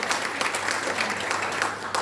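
A church congregation claps together in a dense, steady round of applause, loud and close, for the whole short moment.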